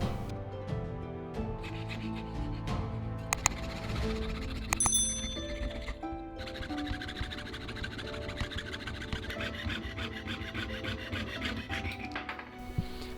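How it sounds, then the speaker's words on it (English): Repeated rasping strokes of a hand file on a handmade metal ring, close and steady, with faint metallic ringing and clinks mixed in. "I'm just filing a little bit of excess off and also forming it in round shape."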